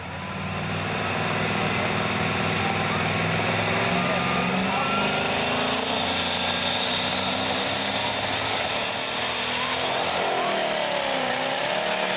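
A Perkins-powered Massey Ferguson pulling tractor engine roars up at a 1998 NTPA truck and tractor pull in Shiawassee, Michigan, running loud and close, with a rising whine and rumbling drone that builds over several seconds.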